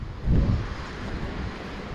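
Wind rushes against the microphone in a low, steady roar that swells early, then settles into a constant blustery rumble.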